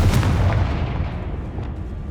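A single Confringo blasting spell explodes in the Hogwarts Legacy video game. A loud, close boom sets off a rumbling burst that slowly fades over two seconds.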